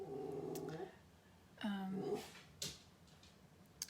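A dog barks and whines indoors in a few short, close bursts with pauses between, moderately loud against a quiet room.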